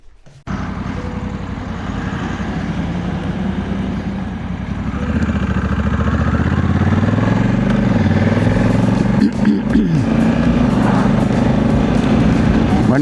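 A motorcycle engine starts and runs loud and close, its rumble swelling as it picks up speed, with a faint voice partly buried beneath it.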